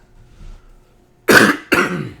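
Two sharp, close coughs in quick succession after a quiet pause, from a man recovering from a cold.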